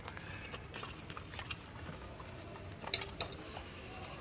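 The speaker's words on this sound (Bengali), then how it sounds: "আলুগুলো আমরা কেটে ধুয়ে নিয়েছি এর মধ্যে লবণ হলুদ গুঁড়ো ভালো করে মাখিয়ে নেব" Sliced, washed potatoes are mixed by hand in a bowl with salt and turmeric powder for a home-style vegetarian cauliflower-potato curry, giving soft continuous scraping and clinking of utensil on dish, quiet and close.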